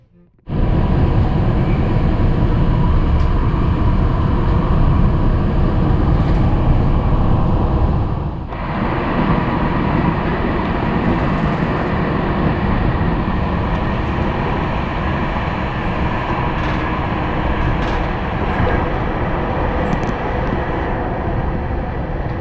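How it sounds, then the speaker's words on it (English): Bergen Light Rail tram running at full speed through a tunnel, a loud steady roar of wheels and motor that fills the whole clip, with a brief dip partway before the rumble continues. "now we can listen to the sound of the tram when it's going at full speed."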